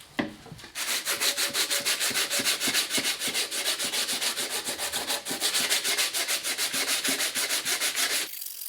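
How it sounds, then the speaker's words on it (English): Steady, rapid back-and-forth hand sanding with 120 grit sandpaper, a loud, continuous rasping scrape with regular strokes that starts after a brief pause and stops abruptly near the end. "Let the sanding begin."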